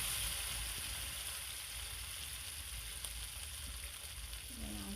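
Chicken frying in oil in a pan with salt and turmeric, a dense steady sizzle and hiss filling the background, close and continuous with faint stirring.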